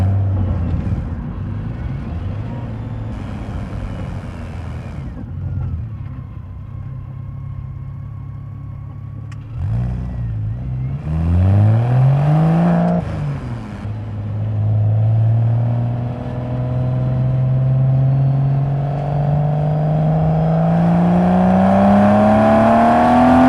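A Porsche Boxster 25th Anniversary driving, its exhaust droning steadily from the cabin with a couple of gear changes and rising revs under acceleration, loud and continuous throughout.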